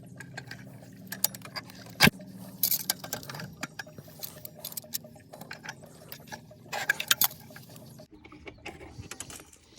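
Wrench and pliers working on a pool cleaner's impeller shaft: quiet, close metallic clicks, scrapes and ratcheting taps in irregular bursts, with faint handling noise in between.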